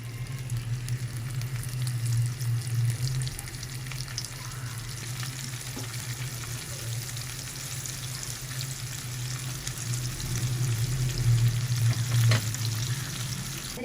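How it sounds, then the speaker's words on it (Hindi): About 200 grams of sliced onions frying in a pan for nalli biryani, giving a steady, continuous sizzle with crackling throughout, close and even in level, with no talk. "हमारे प्याज फ्राई हो गए हैं 6 मिनट के अंदर।"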